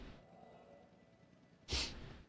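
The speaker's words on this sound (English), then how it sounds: "I'm gonna sneeze." A single close sneeze from a person, a sudden sharp burst after a quiet stretch of faint room noise, trailing off quickly into a breathy tail.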